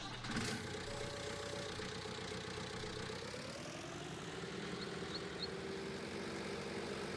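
A Ford tractor engine idles in Farming Simulator 19 with a steady, low mechanical drone, even and continuous at moderate level, with a brief louder burst near the start.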